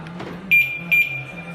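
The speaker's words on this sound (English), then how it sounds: "we can hear double beep" A retrofitted BMW original SA302 anti-theft alarm siren gives a double beep as the car door is unlocked: two short, clear electronic tones half a second apart over a low background hum.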